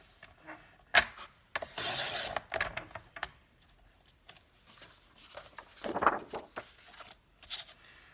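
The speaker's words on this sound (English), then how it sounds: "Okay, so I'm going to trim the edges off of that just to start." A fairly dull blade trims the edges of paper for a junk journal cover, making short, close scraping and rubbing bursts separated by quiet pauses.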